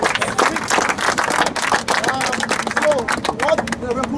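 An audience claps in quick, irregular bursts at a refugee relief and livelihood assistance event, the close patter continuing under someone talking.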